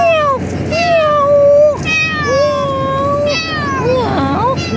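A cat meows repeatedly at close range, a series of drawn-out, rising and falling cries in the aftermath of a typhoon, with a faint background hum.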